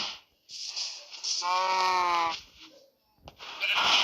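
A Minecraft cow moos in a drawn-out, tonal call, with other short animal calls and bleats around it against a quiet background.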